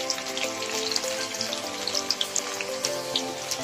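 Onions fry in a pan with a dense, steady sizzle and small crackling pops scattered throughout, close and continuous.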